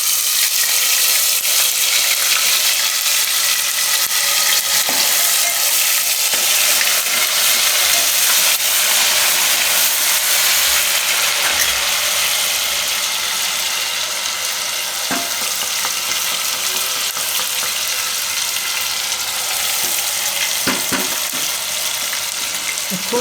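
Ginger, chili and garlic paste fries in hot oil with browned cumin seeds, giving off a loud, continuous sizzle that runs on unbroken, with faint scattered clicks of stirring.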